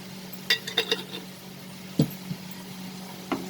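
Chicken with garam masala being sautéed in a pan, with a few light clinks and scrapes of a utensil against the pan over a faint sizzle, followed by two more isolated stirring knocks.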